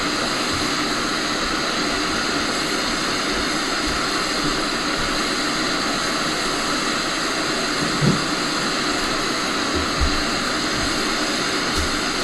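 Jet airliner engines roaring steadily during a takeoff in a flight simulator game, a broad continuous rushing drone with a couple of faint clicks, no voices.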